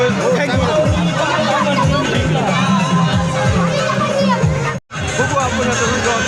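Dense crowd noise at a Hanuman Jayanti village fair in Rui, loud babble of many voices with children shouting and chattering close by, continuous throughout apart from one momentary dropout.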